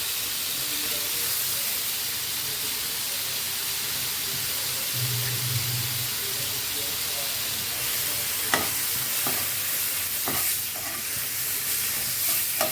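Ground spices sizzle and fry steadily in a pan for rohu fish kalia, a continuous broadband hiss with a few sharp scrape-like stir clicks near the end, close and moderately loud with no talking.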